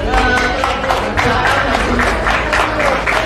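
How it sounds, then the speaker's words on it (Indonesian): Loud, steady applause from students at Barunawati, dense clapping with crowd noise filling the whole stretch without a break. "Tepuk tangan untuk murid-murid Barunawati"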